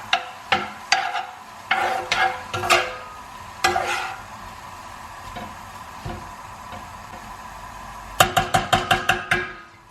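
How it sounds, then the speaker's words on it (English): Food stirred in a pan, with a spoon clattering and scraping against the metal in loose bursts and pauses, then a rapid run of sharp taps near the end, close and clear over a faint background sizzle, no talking. "just give that a really good stir"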